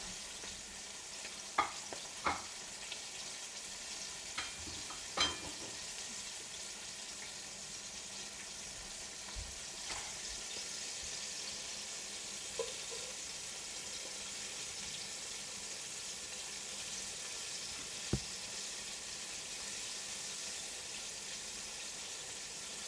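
Chicken karaage deep-frying in oil at 350 degrees, a steady bubbling hiss with occasional sharp pops and clinks, moderately quiet and continuous with no talking.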